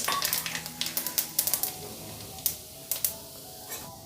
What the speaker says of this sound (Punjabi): ਹੁਣ ਆਪਾਂ ਇਹਦੇ ਵਿੱਚ ਚਾਰ ਸੁੱਕੀਆਂ ਲਾਲ ਮਿਰਚਾਂ ਪਾਵਾਂਗੇ ਇੱਕ ਚਮਚ ਜੀਰਾ ਜੀਰੇ ਨੂੰ ਚੰਗੀ ਤਰ੍ਹਾਂ ਪਹਿਲਾਂ ਆਪਾਂ ਭੁੰਨ ਲੈਣਾ